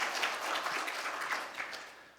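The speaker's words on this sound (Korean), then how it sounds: "우리 환영하는 의미에서 박수로 맞이하겠습니다." A church congregation applauds at a Sunday worship service to welcome visitors home from other regions and abroad, a dense, steady wash of many hands clapping that fades slightly toward the end.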